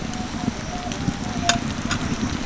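Vegetables for pasta sizzle steadily in a hot pan after a little water is poured in, a continuous crackling hiss with occasional sharper pops.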